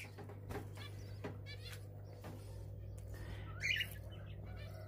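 Budgerigars chirp in short, soft bursts near a nest box in a home aviary, the faint calls sitting over a steady low electrical hum with one slightly louder flutter of activity.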